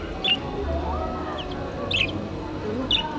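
Caged birds at a large Toronto flea market chirp in a few short, high tweets spaced a second or so apart, over a steady hum of market background noise.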